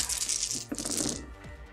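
Dice tumble and clatter across a tabletop in a brief burst of bright, rattling clicks that quickly settle, heard close and alone.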